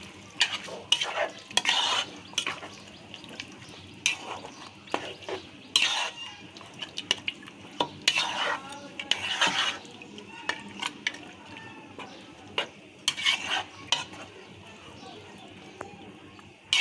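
A spoon stirs beef bhuna with spices in a pan, giving repeated scraping strokes over a soft frying sizzle, close and moderately loud, with a voice talking over it.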